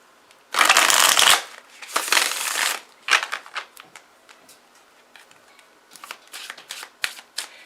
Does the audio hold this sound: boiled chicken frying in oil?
no